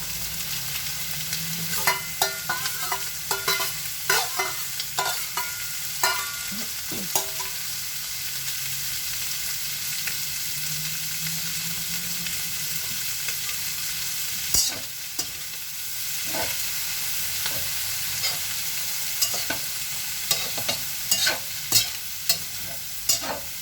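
Shrimp and vegetables stir-fried in a pan, a continuous low sizzle punctuated by repeated sharp clacks and scrapes of a spatula against the pan, coming in bursts with short pauses.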